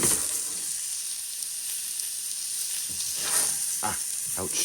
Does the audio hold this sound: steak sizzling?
yes